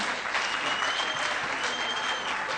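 A crowd claps at a live televised event, with dense, steady applause that fills the whole stretch at an even, fairly loud level.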